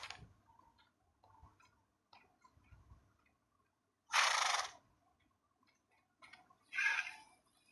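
A horse neighs in two loud, separate bursts, a short whinny followed a couple of seconds later by another, after faint scattered clicks and ticks, with no talking.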